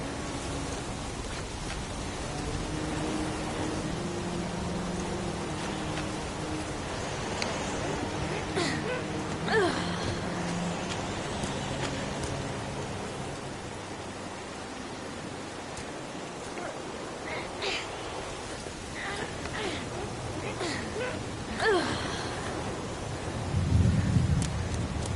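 Heavy rain and thunder in a PS4 video game: a dense, constant rain hiss with low rumbling through it, steady and fairly loud, with no talk.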